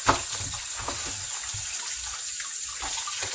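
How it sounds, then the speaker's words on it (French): Running tap water pours steadily into a sink while a plastic cutting board is rinsed and rubbed under the stream, close and fairly loud, with the flow breaking into irregular splashes. "maintenant, je vais laver mon planche"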